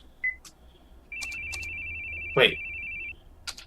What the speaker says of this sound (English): Where's the ringtone?